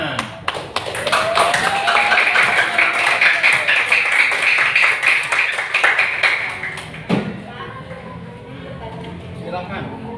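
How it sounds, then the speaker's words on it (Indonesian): Primary school pupils in a classroom debate clap for a presenting group, a burst of distinct, sharp hand claps over the first seven seconds alongside children's voices, then the clapping stops and quieter talk continues. "Ya, tepuk tangan."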